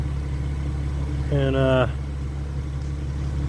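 A Mercedes SLK engine idles just after a cold start, a steady low rumbling drone running throughout, with someone speaking briefly over it.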